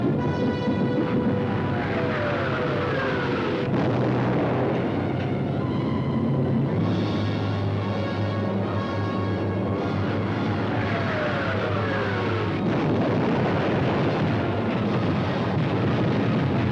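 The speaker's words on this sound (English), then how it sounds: "All the available German night bombers were put into the air." A German night bomber drones overhead in a wartime archive soundtrack, its engines giving a continuous loud roar with shifting, wavering tones and a rough, noisy background.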